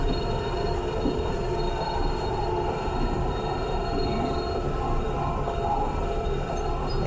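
A train passes through Bulwell on the Nottingham line, a steady rumbling roar of wheels and rail noise that holds loud and close throughout with no talk.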